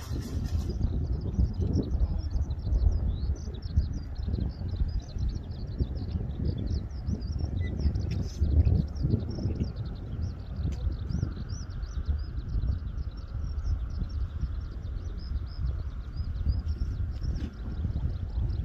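A large flock of released racing pigeons circles overhead before a race, heard as a steady rush of wingbeats and wind with scattered high chirps from other birds in the background.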